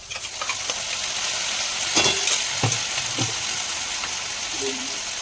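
A ground paste of ginger, garlic and cumin sizzles loudly in a hot pan, with a steady frying hiss and a few scraping stir knocks.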